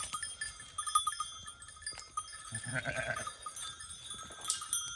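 Small bells on sheep's necks jingle and clink irregularly amid quiet outdoor sounds, with a brief sheep bleat in the middle.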